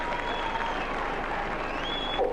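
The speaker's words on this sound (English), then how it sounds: "his own players were clapping him on, Ray." Rugby players clap a teammate onto the field: steady, fairly faint applause forms a continuous wash of crowd noise, with a thin tonal line running through it.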